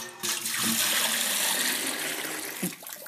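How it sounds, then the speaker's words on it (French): Tap water pours into a bucket in a strong, continuous splashing rush that starts abruptly and holds steady before tapering off near the end. "Je vais mettre un petit peu d'eau dans un seau."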